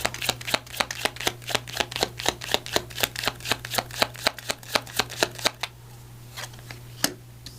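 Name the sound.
shuffling a Language of Flowers affirmation card deck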